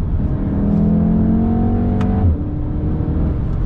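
An MK7.5 Golf R revs hard through a loud, raspy straight-pipe exhaust with the resonator removed, holding a steady drone before the revs drop sharply and settle into a rumble.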